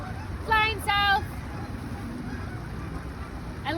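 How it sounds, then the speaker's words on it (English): Geese flying south honk twice in quick succession, moderately close, over a steady background rumble, with a faint further call at the end. "hello geese, flying south."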